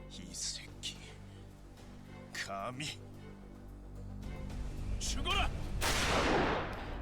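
Gunshots in the video game Yakuza Kiwami 2: a few sharp reports between bursts of in-game speech, building to a louder blast near the end over a steady low game hum.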